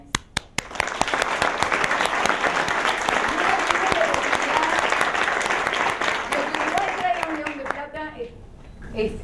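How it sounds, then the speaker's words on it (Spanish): Audience applause at an interview event opens with a few scattered claps, swells into full sustained clapping with voices mixed in, then tapers off into isolated claps and talk. "hoy tendríamos que darle un aplauso especial por el León de Plata"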